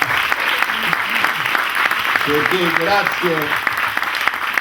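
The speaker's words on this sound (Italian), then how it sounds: "io ringrazio veramente il vivaio La Gerbera, al quale vorrei rivolgere con voi un bel applauso" Audience clapping at a gala in a hall in Grosseto, a sustained round of applause, fairly loud and close, while someone speaks over it briefly.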